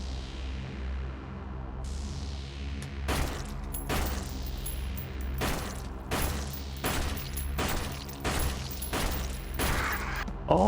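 Gunfire from a gun in the horror video game Flesh Made Fear: about eight sharp loud shots at irregular intervals over a low droning hum and sustained tones.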